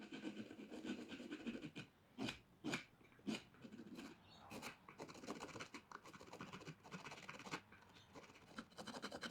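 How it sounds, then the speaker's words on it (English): A riffler file rasping over hand-carved wood for a lamp base, steady close scratchy strokes at a quiet level with a few louder rubbing bursts, no talking. "I'll use a riffler file and even out what I've done so far"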